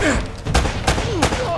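Video game gunfire from Uncharted: Drake's Fortune, with several loud sharp bursts of shots spaced across a short stretch of dense action noise.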